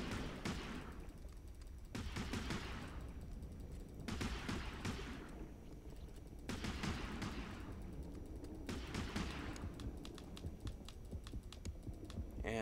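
Repeated harpoon gun shots fire in the underwater shark-hunting video game Depth, sharp bursts roughly every two seconds over a steady churning background, with rapid clicking clustered near the end.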